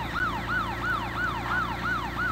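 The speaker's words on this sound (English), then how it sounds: "Siren sounds like weird." An emergency vehicle siren in the WobblyLife video game wails in a fast, repeating up-and-down cycle, about seven rises and falls, steady and clear over a low engine hum.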